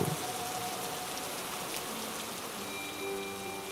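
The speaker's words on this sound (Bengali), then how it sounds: "আচমকা বৃষ্টির গতি বাড়ল" Heavy rain pours steadily, a dense hiss of drops hitting surfaces, constant and fairly close with no voices.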